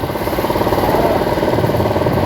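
A repaired Kymco Super 8 scooter engine runs steadily close by, a loud continuous buzzing drone with a slight pulsing rhythm and no pauses.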